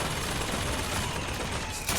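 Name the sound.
hand cannon firing at soldiers in video game Bioshock Infinite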